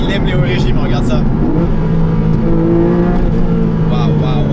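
Porsche 718 Boxster GTS 4.0 with its flat-six engine revving hard toward high rpm, a loud, close, rising engine note that holds steady throughout, with someone talking over it.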